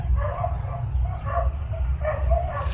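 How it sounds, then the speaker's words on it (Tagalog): Dogs bark in a few scattered bursts, sounding distant over a steady low rumble and hiss of outdoor background noise. "So may mga aso dyan sa bandang unahan kasi may bahay dyan."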